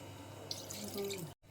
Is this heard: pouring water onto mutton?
yes